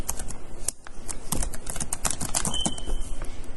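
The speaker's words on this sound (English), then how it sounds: "So you can simply type on this form" Rapid, continuous clicking of keys on a computer keyboard, recorded close and steady for a few seconds with no one speaking.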